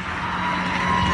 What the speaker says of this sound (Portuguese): Vem a Kombi.